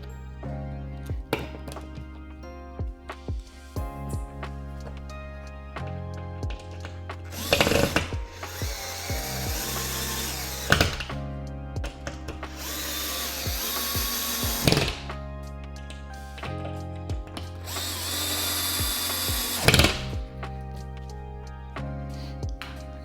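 A power drill drives wall anchors into a wall while a guitar wall mount goes up, with three long whirring bursts spaced apart between quieter handling clicks and taps.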